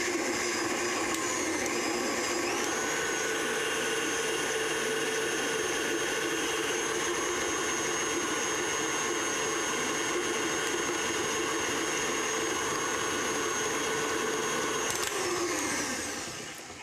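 An electric mixer whirs steadily and loudly, beating cookie dough for jam kolacky without a break, then winds down at the very end.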